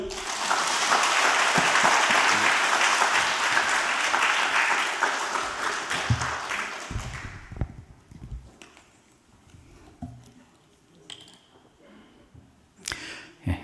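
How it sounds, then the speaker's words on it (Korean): A church congregation breaks into loud, sustained applause that holds steady for several seconds, then fades away, leaving quieter room noise with scattered knocks and shuffles. "목사님 날 다시 한번 큰 박수 하시죠."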